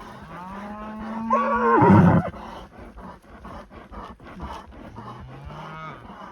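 Cattle lowing in a forest pasture during a herd check: a long, loud moo swells near the middle, with fainter moos from other cows before and after over open outdoor background.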